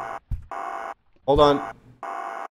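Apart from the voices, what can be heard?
phone ringing in the video game Ghost of Tomorrow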